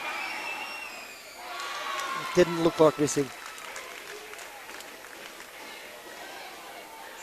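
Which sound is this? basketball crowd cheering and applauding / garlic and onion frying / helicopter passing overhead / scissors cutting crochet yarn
basketball crowd cheering and applauding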